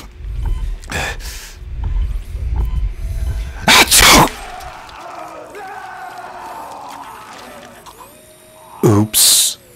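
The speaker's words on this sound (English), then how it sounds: "I just sneezed." Two loud, explosive sneezes burst out a few seconds apart, the second coming near the end, over faint background rumble and game noise.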